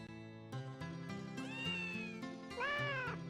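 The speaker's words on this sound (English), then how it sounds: "They recorded 3 different cat meows" A recorded cat meows in a video game, heard as several clear, close meows with rising and falling pitch. The last one is drawn out and whiny, over a soft, steady background hum.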